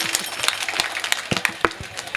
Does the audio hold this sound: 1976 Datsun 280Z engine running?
no